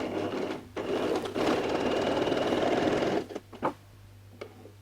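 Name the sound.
sewing machine stitching stretch fabric T-shirt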